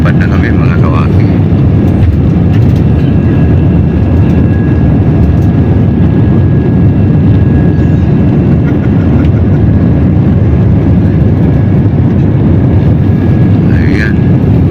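Passenger airplane taking off, a loud, steady engine roar and rumbling cabin noise filling the whole stretch without letup.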